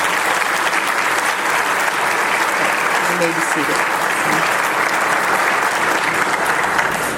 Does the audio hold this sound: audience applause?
yes